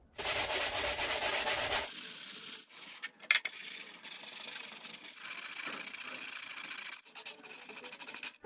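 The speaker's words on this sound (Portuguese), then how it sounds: "Agora a lixar com a 150." Steady abrasive scrubbing of 150-grit sandpaper over a fibreglass-moulded part, loud and continuous at first, then lighter back-and-forth strokes with brief pauses and a few small knocks, close up with no voices.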